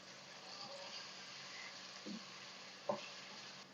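Chopped medium tomatoes being stirred into masala frying in a pan, a steady low sizzle with a couple of soft scrapes of the spoon, close and quiet, no talking.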